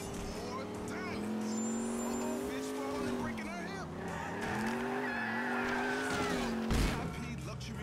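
A postal car being driven in Grand Theft Auto IV, its engine revving up and down with rising and falling pitch, tires squealing as it skids sideways, and a short knock near the end.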